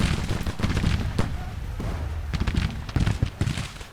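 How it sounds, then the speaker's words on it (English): Artillery counter-battery fire in the Civil War strategy game Grand Tactician: The Civil War, heard as dense, irregular cannon booms and crackling shots over a low rumble, with no voices. "It looks like the enemy is hitting us with counter battery fire."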